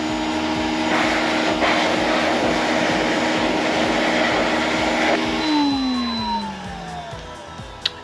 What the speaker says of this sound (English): the blow dryer works really well with the 3 heat settings and 2 fan blower settings